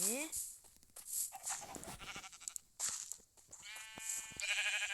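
Minecraft sheep bleating in short, wavering cries amid game-like electronic sounds and chatter, with a voice talking over parts of it.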